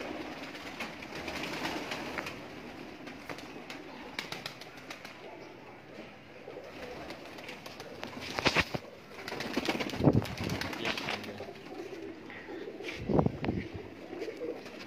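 Kamangar pigeons coo softly in a steady background murmur, with a few louder flutters and knocks, faint voices nearby.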